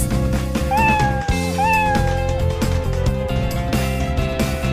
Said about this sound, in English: The cat is in the box.